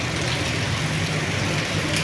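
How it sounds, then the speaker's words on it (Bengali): Heavy rain pours down steadily in Malé, Maldives, a dense, unbroken hiss with a low rumble underneath, constant and fairly close throughout with no voices. "কোনো থামাথামি নাই, বৃষ্টি চলতেই আছে।"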